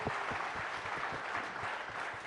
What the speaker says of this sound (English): Let's have a loud round of applause for Ustad Zakir Hussain.